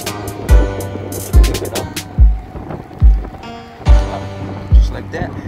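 An old bicycle converted into an electric bike rides past on a quick test run. Repeated low thumps and whooshes roll by about once a second over a steady motor hum, and a voice talks briefly.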